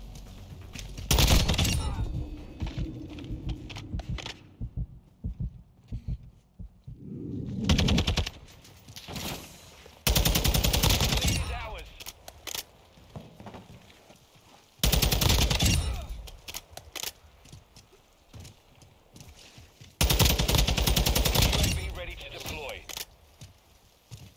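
Repeated bursts of gunfire in Call of Duty MW2 team deathmatch, loud sharp volleys arriving in several separate clusters with quieter gaps of game ambience between them.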